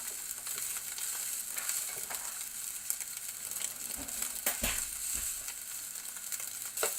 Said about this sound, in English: So you can put the rice inside of the pot and mix it